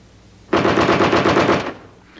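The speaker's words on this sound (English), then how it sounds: "The M60 is the standard machine gun for the U.S. Army." An air-cooled M60 machine gun of the Vietnam-era U.S. Army fires a single sustained burst lasting about a second, loud and close, a rapid even rattle that stops abruptly, leaving a faint tail.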